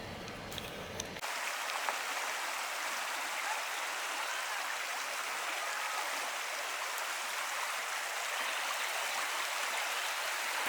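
Steady rushing water of a leaf-strewn river in Cataloochee Valley, Great Smoky Mountains, in autumn fills the scene, a constant broad hiss without pauses after a brief quieter moment at the start.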